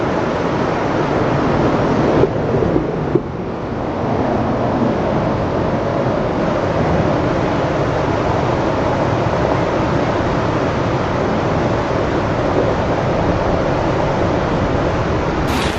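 Strong water crashes down over an old stone barricade in a loud, continuous roaring rush that stays dense and steady throughout, with a brief gusty dip early on and no voices.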